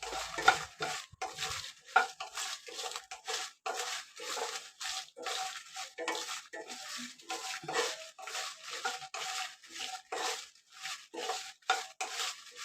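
Grated coconut is roasted in a pan for an Ayurvedic chutney, with quick, rhythmic scraping and stirring strokes against the pan that repeat close up, and no one speaking.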